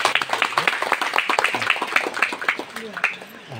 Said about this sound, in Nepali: जोरदार ताली बजाइदिनुहोस् ल।